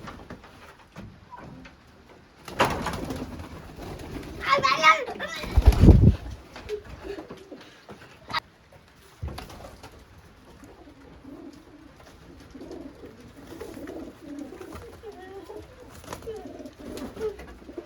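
Pigeons coo softly in short murmuring bursts, one of them black, with a loud flutter of wings near the start and quiet rustling between calls.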